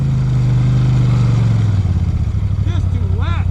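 A motorcycle engine rumbles loudly up close, holding a steady throttle before the pitch drops and settles into a choppier idle-like pulse, with a brief voice near the end.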